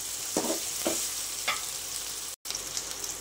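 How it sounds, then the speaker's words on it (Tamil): Onions sautéing in a pan with a steady broadband sizzle, broken by a few soft stirring scrapes and a brief dropout near the end. "வெங்காயம் இன்னும் கொஞ்சம் பொன்னிறமாக வதங்கட்டும்"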